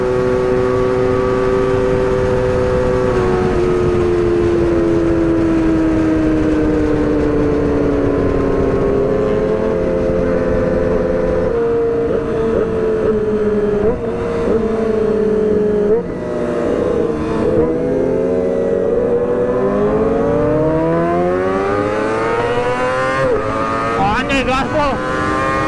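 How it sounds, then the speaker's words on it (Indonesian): Motorcycles on a Sunday morning group ride rev and accelerate loudly and close by, harmonic engine pitch climbing and shifting through gears continuously, with several bikes overlapping toward the end and voices speaking over them. "Wah, anjir, Hedi ngegas terus."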